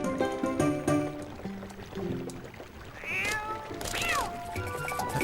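A cat meows twice in the Zelda Twilight Princess video game, each cry rising and falling over soft game music with plucked notes, near and clear.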